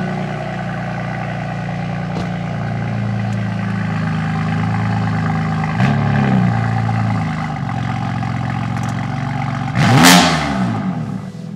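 A BMW F80 M3 with carbon fibre parts, engine in Sport Plus mode, holds a loud steady idle drone up close, with brief blips and one sharp rev that swells and falls away near the end.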